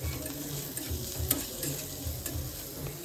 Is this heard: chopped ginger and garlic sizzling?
yes